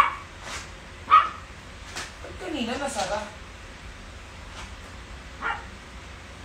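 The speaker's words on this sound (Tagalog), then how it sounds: "Tumatahol na" A dog barks a few times in the background, short sharp yips spaced apart, while people talk over it indoors.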